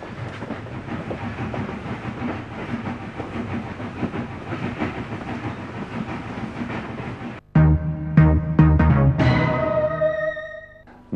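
A train rolls along the rails with a steady, loud rumble and clatter for several seconds, then cuts abruptly to tonal, ringing sounds for the rest.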